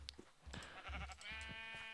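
A sheep in the Minecraft video game gives a short bleat, with a wavering nasal cry rising near the end over a few soft background thumps.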